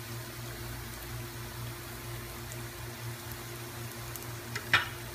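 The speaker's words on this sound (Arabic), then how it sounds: "الصبايا بهالطريقة نقليهم على مرحلتين ونغطسهم بالزيت" Luqaimat dough balls fry in hot oil with a soft, steady sizzle and bubbling that continues throughout, followed by a brief clink near the end, with no talking.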